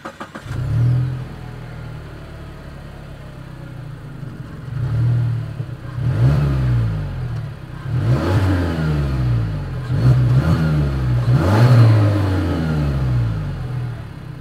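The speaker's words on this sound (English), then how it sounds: "As always, here is that exhaust clip." A 2021 Mazda 3 turbocharged engine idles and then revs repeatedly, with several loud rising bursts of exhaust roar close to the mic.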